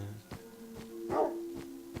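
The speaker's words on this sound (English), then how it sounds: "Ooh, look, a doggy!" A dog yaps in short, evenly spaced barks, around six over two seconds, fairly close and moderately loud outdoors, with a brief higher whine in the middle.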